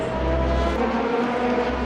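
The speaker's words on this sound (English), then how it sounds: "So 2 cars left to cross the line" Race cars at the finish line of a Mandalika endurance race, a loud sustained engine drone with a steady tonal whine, close and continuous throughout.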